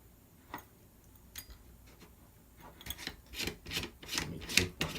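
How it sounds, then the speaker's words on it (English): A flash hider is being unscrewed from a G&P M16A4 gas blowback airsoft rifle, giving close, quiet scraping and rasping clicks in short bursts that grow busier and louder toward the end. "it's just pretty much me unscrewing the flash hider and putting the flash hider back on."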